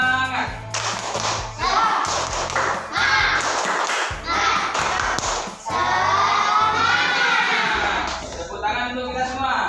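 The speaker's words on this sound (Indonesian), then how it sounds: "Tepuk semangat." Elementary school children in a classroom clap in a patterned spirit clap, sharp bursts of claps and thumps separated by chanted voices, fairly close and loud.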